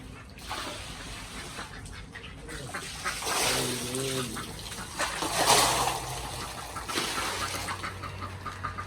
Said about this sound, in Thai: ก็มีเป็ดไปเล่นน้ำค่ะ